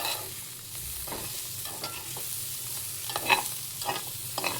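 Chicken fry with fresh coriander leaves is stirred in a hot pan: a constant close sizzle with repeated soft scraping strokes and a few light clinks, no talking.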